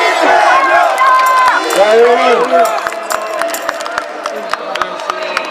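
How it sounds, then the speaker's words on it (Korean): Live political rally crowd cheering and clapping loudly, with someone talking over the noise and sustained whoops and shouts that gradually thin into scattered claps. "자, 박수!"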